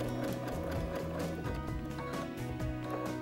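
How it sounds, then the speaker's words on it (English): A sewing machine running a zigzag stitch around a leaf-shaped applique, its close, rapid mechanical chatter continuing steadily with brief pauses and no voices. "So now I'm just stitching my little zigzag stitch around my leaf."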